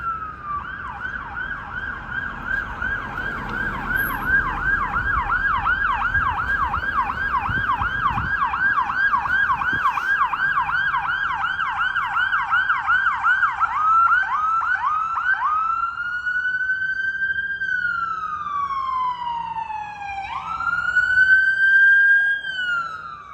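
A loud ambulance siren close by on a late-night street in Cabbagetown, rapid yelping wail shifting into a slower rising and falling tone as it passes, with traffic rumble beneath.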